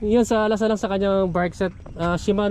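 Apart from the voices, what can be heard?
No everyday noise stands out behind the speech.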